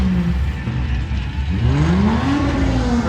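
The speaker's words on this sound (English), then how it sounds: "We just lined up for our second skid." Car doing a burnout skid at a burnout competition, loud engine revving with rising and falling pitch sweeps under a roaring tire-smoke rasp, close and continuous.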